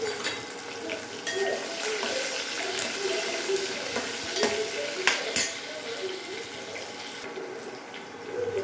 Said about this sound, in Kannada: ನೆಕ್ಸ್ಟ್ ಕರಿಬೇವು ಹಾಕ್ತೀನಿ. ಮೆಣಸಿನ್ಕಾಯಿ ಹಾಕ್ತಿದ್ದೀನಿ.